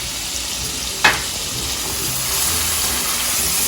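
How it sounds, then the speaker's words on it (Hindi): Cumin powder, spices and a tablespoon of ginger garlic paste fry in a pan with a steady close sizzle, one sharp clatter early on, and no talking. "ये सारा हमने इसमें शामिल किया और इनको भूना। साथ ही हमने 1 टेबल स्पून इसमें अदरक लहसुन का पेस्ट डाला।"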